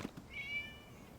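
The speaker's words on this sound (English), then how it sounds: "It was just a cat." A single drawn-out cat meow in the video game Genshin Impact, fairly faint over a low background.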